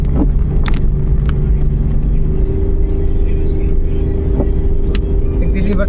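A Suzuki DA64W van engine holds around 3,000 RPM in second gear while climbing a very steep road, giving a loud, constant droning rumble with road noise close up throughout.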